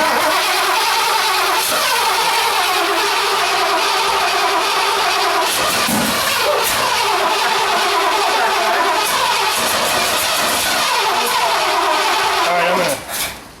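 Ford 460 engine cranking loudly and continuously on the starter, close up, with a couple of sharp backfire pops, while people talk over it.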